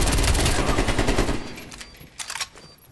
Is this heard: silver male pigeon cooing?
no